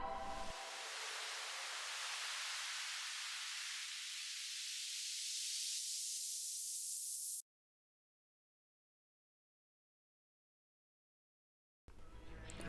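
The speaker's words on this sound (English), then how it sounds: "which is followed by 3 minutes of static that continues to grow" Static noise closing an album swells steadily brighter and louder for several seconds, cuts to silence, then returns abruptly at the very end.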